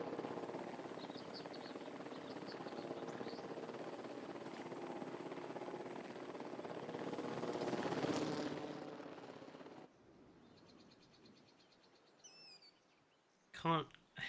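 A helicopter in Jurassic World Evolution 2 ferries a dinosaur, its rotor drone steady and building to a peak before cutting off abruptly, followed by faint bird calls and a short burst of game effects at the end.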